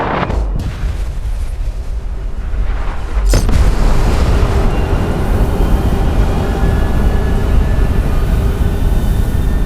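Nuclear bomb detonating at Carhenge in the video game Fallout 76, with a sudden massive boom at about three seconds followed by a sustained, loud, roaring rumble that fills the rest of the clip.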